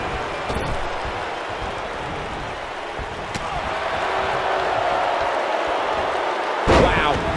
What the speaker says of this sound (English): Wow, he just slammed him with ease.